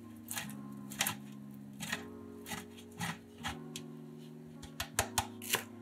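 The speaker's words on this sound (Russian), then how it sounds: "Вареные яйца трем на крупной терке." Boiled eggs, four in all, rubbed across a coarse grater in a kitchen, giving a run of short scraping strokes in an uneven rhythm, close and fairly quiet, with a steady low hum underneath.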